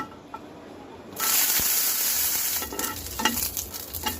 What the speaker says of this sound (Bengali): ভর্তার জন্য শুকনো মরিচ ভেজে নিচ্ছি